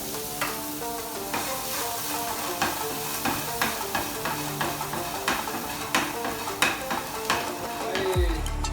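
Celery, ginger, garlic and Szechuan pepper frying in hot oil in a wok, a steady sizzle broken by repeated scraping stirs and clatters at a close, even rhythm.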